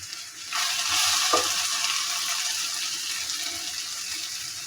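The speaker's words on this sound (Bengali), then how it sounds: "সব কিছু দিয়ে আমি ভালোভাবে নেড়ে দিই" A spoon stirs spicy chicken filling in a hot pan, a steady close sizzle that swells after a brief quiet start, with one scrape early on and no talk.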